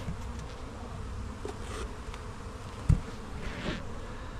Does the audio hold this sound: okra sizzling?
no